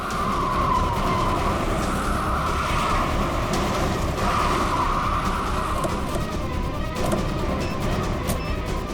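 A car brakes hard and skids to a stop on a road, its tyres giving a loud, sustained screech over steady engine and road noise for the whole stretch, with no talk.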